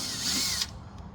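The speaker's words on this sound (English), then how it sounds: "this is a 3mm drill" Power drill fitted with a 3mm (1/8 inch) bit whining at high speed in a sustained close burst, then cutting off abruptly partway through, leaving a faint residual hum.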